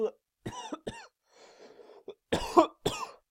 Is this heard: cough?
yes